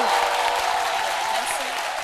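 A television studio audience applauds a guest on a French-language midday cultural show, steady dense clapping filling the whole stretch at an even, fairly loud level.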